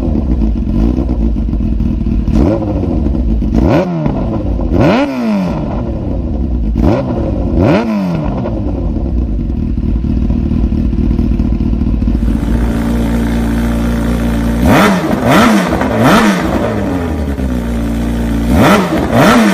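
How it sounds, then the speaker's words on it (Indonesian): A Yamaha Vixion motorcycle converted to a four-cylinder engine idles loudly through its exhaust, with repeated sharp throttle blips rising and falling in quick pairs. A denser cluster of revs comes near the end, with no voices. "Kita coba starter ya, kita tes suara knalpotnya. Katanya sih sudah 4 silinder"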